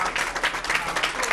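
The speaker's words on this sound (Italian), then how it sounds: "Un applauso." Brief burst of studio audience applause at a live television broadcast, dense steady clapping from many hands, fairly close and even across the moment.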